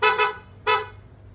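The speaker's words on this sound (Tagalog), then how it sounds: "Then, P-horn." A PIAA horn fitted to a Honda ADV scooter gives two quick loud honks followed by a third after a short pause, close up and alone.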